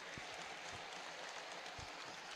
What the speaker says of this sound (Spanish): creo que los aplausos claramente son para Gonzalo Rodríguez por lo que corrió en esa jugada